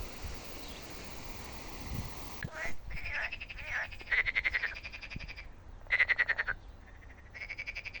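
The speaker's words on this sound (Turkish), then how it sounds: "Kurbağa sesleri." Frogs croak in repeated pulsing bursts at a villa garden with olive trees after a few seconds of windy rustle, the calls clear and fairly close.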